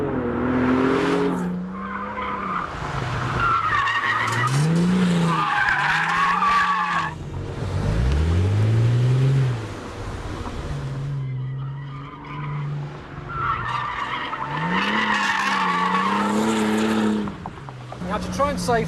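A Volkswagen Golf GTI W12-650 concept car is driven hard on an airfield, its engine revving up and down through the gears with loud, wailing tyre skids, close and sustained, while someone talks over it.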